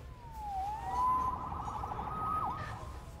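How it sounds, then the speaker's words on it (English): A police siren in the video game Spider-Man wails up and down in rising and falling sweeps, moderately loud over a low hum of background noise. "Saved by the siren."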